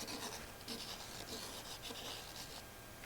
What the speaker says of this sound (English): Grab myself some sandpaper. And then what you do is you round over the corners of the dowel.